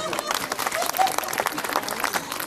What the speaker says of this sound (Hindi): उसके लिए तो और जोर से तालियां.